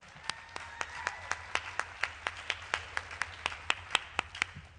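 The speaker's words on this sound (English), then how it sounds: "Can we give them one more round of applause?" A round of applause at a school district State of the Schools address, heard as a few distinct hands clapping in a steady rhythm, fairly faint and distant over a low background hum.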